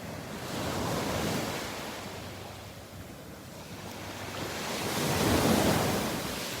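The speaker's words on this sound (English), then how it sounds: "Love watching the waves breaking on the trees." Ocean surf at the Gulf beach of Delnor-Wiggins, waves breaking and washing in with a rising and falling roar, wind noise over the microphone, no voices.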